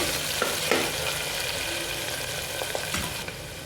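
Chopped onions fry and sizzle steadily in a pan while being stirred, with scraping clicks of the spoon against the metal throughout, close and fairly loud with no talking.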